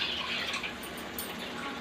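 Water pours steadily into a pot for cooking rice for a Bhimavaram chicken pulao, a close, continuous splashing gush with no pause through the short pour.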